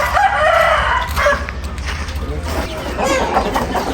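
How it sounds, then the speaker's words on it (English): Roosters crow and cluck loudly at a chicken fight on a Thai bird farm in Nakhon Nayok, with overlapping calls throughout and a low steady hum beneath. "Chicken fight."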